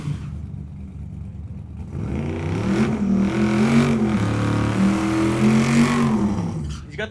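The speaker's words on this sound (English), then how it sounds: "his 1979 Pinto, the twin turbocharged LSX motor, now also on nitrous" Twin-turbocharged LSX engine on nitrous in a 1979 Pinto drag car at a drag racing event, building from a low idle into a loud, rising roar with steady climbing engine pitch, fairly close, alone without talk.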